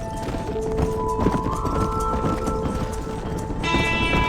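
Horse hooves clip-clop steadily in Red Dead Redemption while cattle are herded to pasture, with a whinny and sustained tonal cues layered over the trotting, fairly loud and close throughout.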